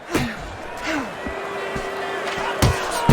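Boxing punches land in the video game Fight Night Champion: several heavy thuds and slaps, including uppercuts and hooks, spaced irregularly under lively commentary and a faint crowd murmur.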